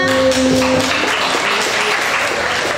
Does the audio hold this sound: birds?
no